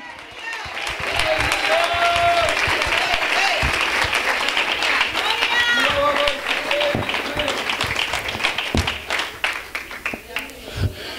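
A church congregation gives a long, full round of applause that holds loud and steady for most of the stretch. Scattered cheers and voices rise through it, and it thins toward the end.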